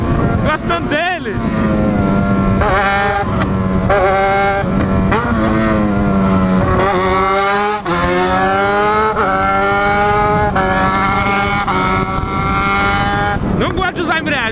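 Yamaha XJ6 motorcycle engine revved hard and shifted up through the gears one after another, loud and close, its pitch climbing and dropping repeatedly for the whole stretch.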